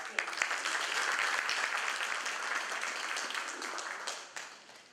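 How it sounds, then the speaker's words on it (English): Applause from an audience at a school event, a broad wash of clapping that swells early, holds steady for several seconds and then tapers off near the end. "Let's clap for that, I think."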